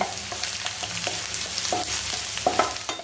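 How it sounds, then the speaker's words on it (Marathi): Seven or eight garlic cloves fry with onion in a hot pan, producing a continuous close sizzle broken by repeated clinks and scrapes of a stirring spoon. "आता यातच आपण या 7 ते 8 लसणाच्या पाकळ्या आहेत त्या टाकणार आहोत आणि त्यांना सुद्धा मस्त परतून घेणार आहोत"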